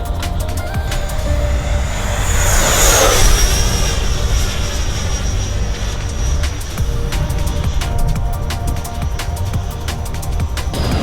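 A small RC jet plane, an FMS F-16C model, screams past fast, its whine sweeping up and down as it flies by, with steady engine roar and scattered clicks.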